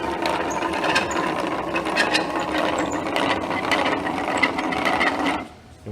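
A screw advance box joint jig, driven by gears, being cranked back to its start position, giving a steady, loud, close whirring ratchet of rapid mechanical clicks for over five seconds that cuts off abruptly at the end.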